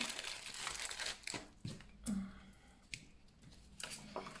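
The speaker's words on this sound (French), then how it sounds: "je prends mes ciseaux, je coupe un beau bout" Scissors snip through printed paper at a craft table while making labels, giving a few close, crisp cuts and crinkling rustles with short pauses between them.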